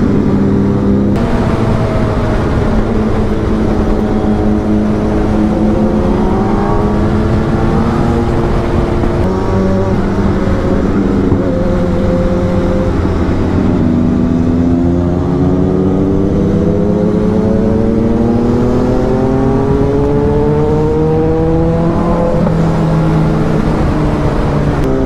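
Superbike ridden at a slow controlled pace through city traffic, its engine humming and rising and falling in pitch with gear changes, loud and continuous with road and wind noise.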